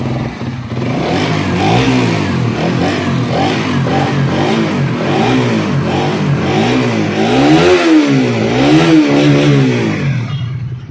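A new Suzuki Raider FI 150 motorcycle engine fires up and idles roughly, then revs in repeated rising-and-falling bursts, loud and close, with a clattering mechanical edge.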